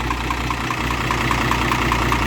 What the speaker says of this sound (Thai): นี่ค่อยเป็นเครื่องยนต์หน่อย